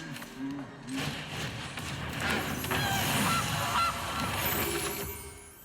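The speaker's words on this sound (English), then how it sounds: "Another goose." Goose honks ring out in a strategy video game, a few short calls rising over a dense, busy mix of game sounds and background noise.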